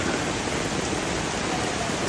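A heavy rain shower pours down in a steady, dense hiss of falling water, unbroken and even for the whole short stretch.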